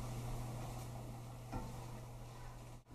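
Daiya vegan cheese is stirred into a sauce in a pan, a faint steady sizzle and soft scraping with a brief louder scrape partway through, no voices.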